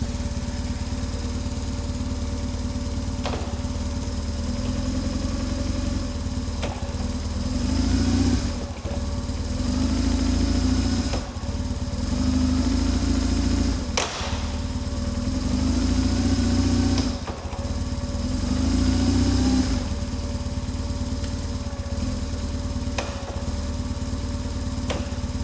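A BMW GS motorcycle engine runs steadily on a stand while it is shifted up through every gear from neutral to top and back down, the revs swelling and dipping in a regular rhythm, close and loud, with no talk.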